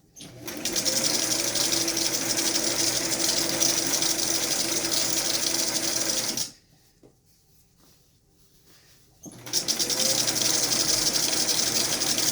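A sewing machine runs steadily, top stitching a fitted fabric face mask; the close, continuous motor whir stops for about three seconds and then starts up again.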